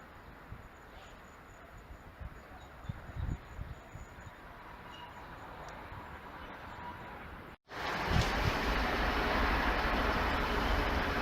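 A steady low rumble of a Class 153 diesel train at Gainsborough Lea Road station, which grows louder and rougher after a short gap partway through.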